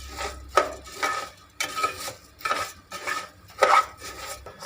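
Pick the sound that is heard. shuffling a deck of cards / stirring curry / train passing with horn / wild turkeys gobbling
stirring curry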